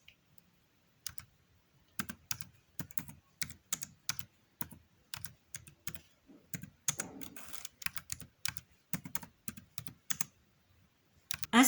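Keys tapped on a computer keyboard in short irregular clusters of clicks, close and clear in a quiet room, with no talking.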